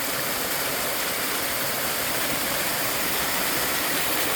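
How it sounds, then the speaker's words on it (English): A small roadside waterfall pours in a constant broadband rush, loud and close, steady for the whole few seconds with no voices or other sounds. "check out this waterfall"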